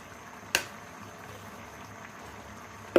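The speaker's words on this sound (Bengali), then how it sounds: "যে বলক চলে আসছে।" A pot of chicken biryani rice at a boil gives a soft, continuous bubbling and gurgle close by, with two sharp clicks near the start and end.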